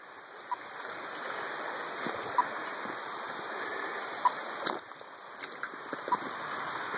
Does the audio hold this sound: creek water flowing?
yes